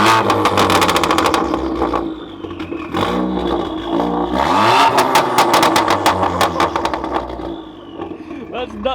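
A Ford Fiesta ST MK7 fires up and revs, with sharp blips rising and falling, a burbling idle between them and crackling pops, loud and close while people talk over it.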